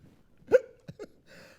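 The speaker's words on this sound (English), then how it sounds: "I got the hiccups" A single person hiccups three times in quick succession, the first sharp and loud with a brief voiced squeak, the next two shorter and softer, followed by a faint breathy rustle.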